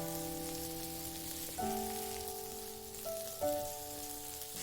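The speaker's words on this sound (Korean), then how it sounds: "팬에 식용유, 들기름을 넣고 감자를 넣어줍니다. 중불로 익히고" Potatoes frying in a pan with cooking oil and perilla oil over medium heat, a steady crackling sizzle beneath sustained tonal hums that shift pitch now and then, with no voices.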